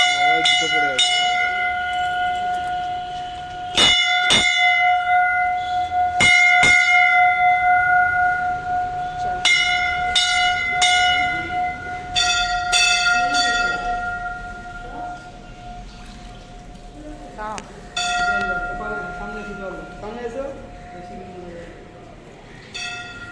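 A metal temple bell at a Hindu temple in Assam struck repeatedly, sharp clangs with long ringing tails that overlap and decay, loud and near, with people talking in the background.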